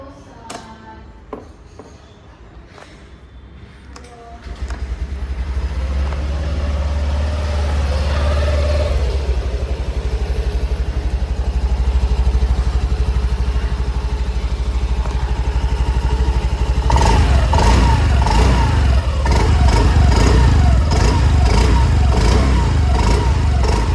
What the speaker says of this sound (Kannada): ಈ ಒಂದು ಸ್ಕೂಟರ್ ನ ಎಕ್ಸಾಸ್ಟ್ ನೋಟ್ ನ ನೋಡ್ಕೊಂಡ್ ಬರೋಣ ಬನ್ನಿ